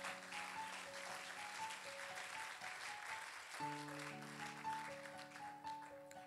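A church congregation claps during a worship service, steady and moderately distant, with sustained organ or keyboard chords underneath and no speech.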